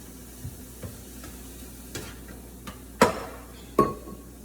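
A spoon stirs coffee with sugar in a cup, making a handful of light taps and scrapes that end in two louder, ringing clinks against the side, close by and without talk.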